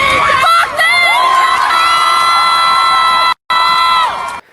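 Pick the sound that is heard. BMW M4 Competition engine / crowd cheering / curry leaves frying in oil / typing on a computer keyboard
crowd cheering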